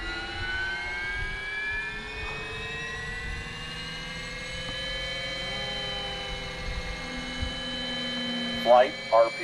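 A scale RC helicopter balanced on its main shaft winds up, its engine and rotor producing a steady rising whine with layered tones that climbs gradually in pitch, loud and close, with a few brief vocal sounds near the end.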